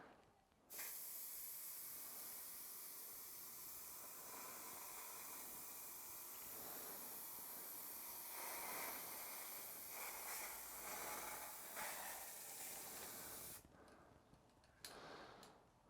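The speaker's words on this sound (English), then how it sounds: "as I'm painting, pour or spray down the color also" Spray paint hisses from a can in one long continuous burst, close and steady, then breaks into a few short spurts before stopping.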